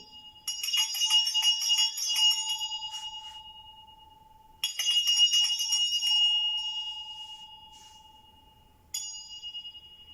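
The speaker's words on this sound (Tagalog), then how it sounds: "Nagtatawag yung ano niya, yung bell. Nagtatawag ng energy." A small hand bell is rung during a tarot reading, giving three bright jangling shakes, each ringing out and slowly fading into a sustained tone before the next, close and clear in a quiet room.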